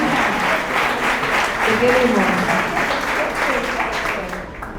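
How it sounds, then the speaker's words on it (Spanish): Audience applause at a book presentation during an international book fair, a loud, close, continuous wave of clapping that tapers slightly toward the end, with a voice calling out over it. "fuerte el aplauso otra vez para Rosita"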